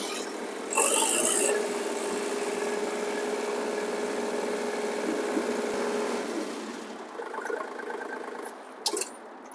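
Kubota L2502 compact tractor engine running at a steady idle, a smooth, fairly quiet mechanical hum held evenly for several seconds, with a brief louder rattle early and a few small clicks near the end.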